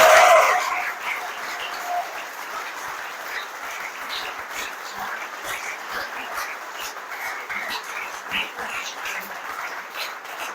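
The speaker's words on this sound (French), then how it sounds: "Donc je pense que vous pouvez vous applaudir" Around 300 people at a left-wing political meeting against Macron's pension reform clap for themselves, a steady, moderate spread of applause that fades and lingers in the hall, with a few voices over it.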